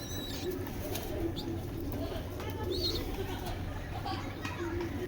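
Racer pigeons and their chicks coo softly and repeatedly inside a pigeon enclosure, faint and low, with scattered chirps and background murmur.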